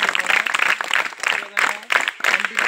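An audience claps at an under-19 cricket selection event at Vizzy Stadium, Vizianagaram, in bursts of applause broken by short gaps, with a voice speaking over the pauses.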